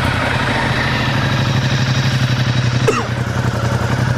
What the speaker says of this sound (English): So if I start it up again, hang on.